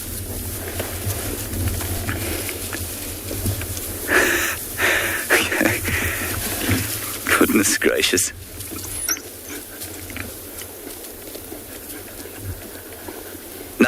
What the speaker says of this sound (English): Now that hyena is making that noise to discourage being attacked.